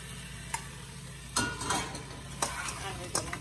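Chopped eddoes dropped into a hot pot, giving sharp bursts of sizzling and frying with a few clattering impacts over a steady background hiss, close and moderately loud.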